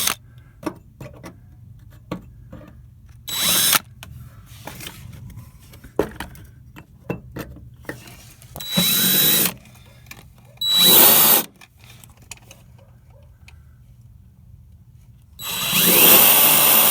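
A power drill bores through a rusted bolt in short bursts, loud and close, with several separate runs of whirring grind broken by quiet pauses and small ticks and clicks of handling.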